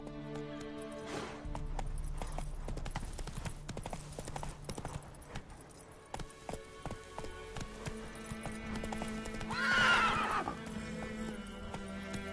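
A horse in The Witcher Wild Hunt video game trots and gallops with rhythmic clip-clop hoofbeats, then whinnies loudly near the end, set against a quiet game backdrop.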